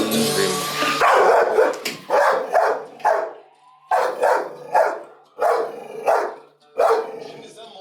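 A Kangal dog barking in a video played back through a computer, a series of loud, deep barks in uneven bursts of one or two, close and clear, with brief pauses between them.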